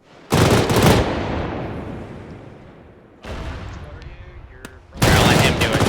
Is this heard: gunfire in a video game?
yes